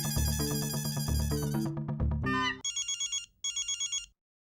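A telephone rings during a call, first as a loud melodic ringtone tune, then as repeated electronic trill bursts in two groups before stopping.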